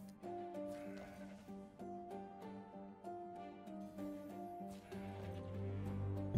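Faint goat bleats from the card video game Legends, wavering nasal cries repeated over a quiet tonal game background, with no talking.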